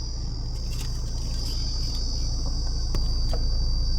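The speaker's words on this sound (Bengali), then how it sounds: "ঝিঝি পোকার মতো আওয়াজ হচ্ছে দেখো বাইরে।" Steady high insect chirping, likely crickets, rings outside at a roadside stop near Usri Waterfall, heard from inside a car over a constant low engine or road rumble, with a few faint clicks and taps.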